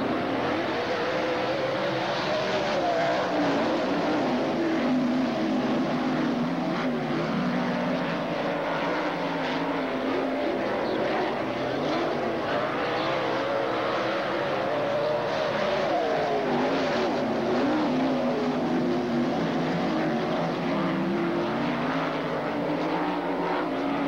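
Sprint cars in a pack roar through the start of the Northern Sprint Tour feature race at Southern Oregon Speedway in 2001, a continuous loud, rumbling engine drone that rises and falls slightly without letting up.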